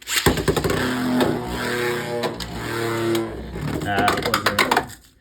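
A Beyblade X Knight Shield top ripped with a wobble launch into a stadium, a rapid ratcheting whir of the launcher followed by a sustained spinning clatter and rattle that cuts off near the end.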